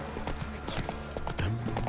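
Roach the horse trotting in The Witcher 3, a quick, steady clip-clop of hooves on ground, moderately close, with a low game ambience beneath and a brief low tonal sound near the end.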